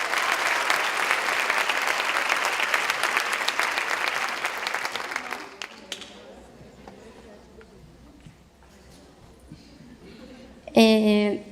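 Theater audience at a Sesc talk breaks into intense, dense applause, loud and sustained for several seconds, then fades out into quieter room sound with a few scattered claps and a brief voice near the end.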